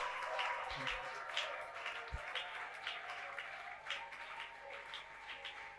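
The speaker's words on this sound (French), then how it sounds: "applaudissez pour le roi des rois" A church congregation applauds during a sermon, with a steady wash of clapping and cheering that sounds somewhat distant and sustained, and a few low thumps.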